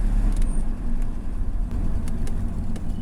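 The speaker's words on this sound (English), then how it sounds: "Now I'm going to floor it, and I'm flooring it right now. Full throttle" A 1983 Mercedes-Benz W123 250 with automatic transmission is floored at full throttle, producing a loud, steady low engine drone from inside the car, broken by faint clicks.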